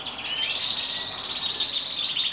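A small bird sings a bright, high, continuous trilling song close by, fairly soft and unbroken.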